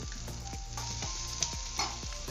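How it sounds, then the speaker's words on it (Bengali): Chopped onions with salt fry in a pan, giving a continuous close sizzle broken by a regular beat of stirring scrapes and a couple of brighter clinks, with no speech. "পেঁয়াজ দেখো একটু ভাজা হয়ে গেছে, এবারে দিয়ে দেবো আমি নুন"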